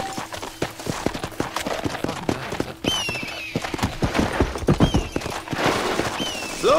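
Horse hooves clip-clopping in Red Dead Redemption, a run of rhythmic hoofbeats at a steady gait, joined by a brief whinny and some scattered gunfire.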